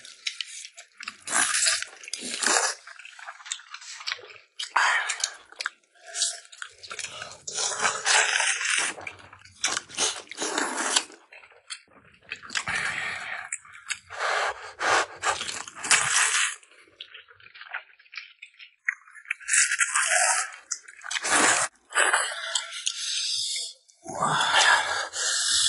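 Close-up chewing, biting and soft squishing while eating stewed pork belly, pork head meat and vermicelli, an intimate ASMR mukbang with no talking, the wet bites and slurps coming in irregular bursts throughout.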